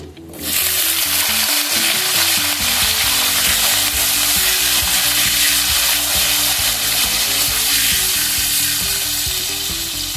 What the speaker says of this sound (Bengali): এখন আমি ক্যাপসিকামগুলো সব দিয়ে দেব।